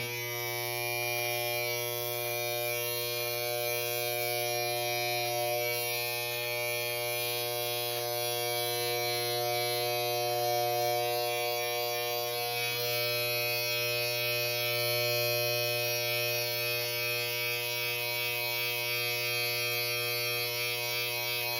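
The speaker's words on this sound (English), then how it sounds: "Again, I'm trimming. I don't want to do massive damage to my beard. Just getting the bulk off." Electric beard trimmer running continuously on a beard, a steady high buzzing drone with a strong motor hum that holds an even pitch and loudness for over twenty seconds, close to the ear.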